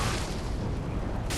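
A Pyromancy fireball bursts in Dark Souls III, a dense rumbling boom that fills the short moment and holds steady and loud with no pause.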